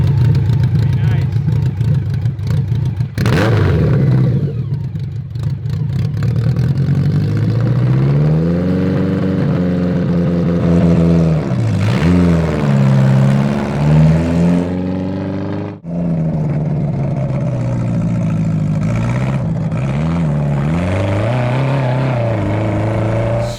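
A 1000cc mini trophy truck go kart engine revving, loud and close, rising and falling in repeated throttle bursts with a brief cut partway through, and people talking over it.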